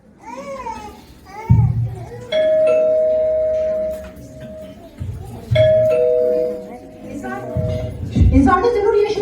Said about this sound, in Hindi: घर की डोरबेल बजती है।